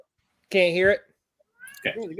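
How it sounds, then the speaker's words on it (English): A house cat gives one loud, close meow, and a person speaks briefly afterward. "That sound is my annoying cat."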